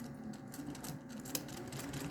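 Sewing machine stitching a baling-twine mug rug, a rapid mechanical rattling hum at close range, steady and continuous with small ticks, no voices.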